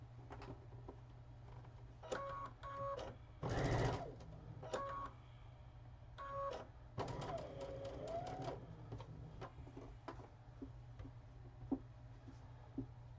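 A sewing machine stitches fabric for a Christmas table topper in short, quiet bursts of rapid ticking with pauses between, one louder stretch near the start, over a steady low hum.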